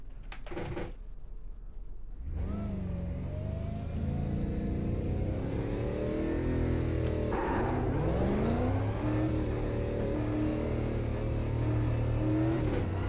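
A Super Late Model race car engine at Martinsville in iRacing, with a few sharp clunks and then the engine firing into a steady loud roar, revving up and shifting pitch as it accelerates away.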